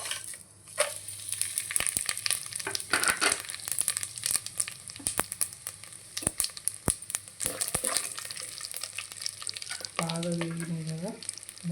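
Whole garam masala, including nutmeg, mace, cardamom, bay leaf and shahi jeera, frying in hot oil for Telangana bagara rice: a steady close sizzle punctuated by sharp crackles and pops, with a brief scraping stir near the end.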